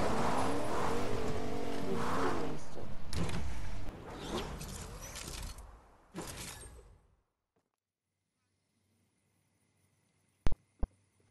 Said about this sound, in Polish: Auto.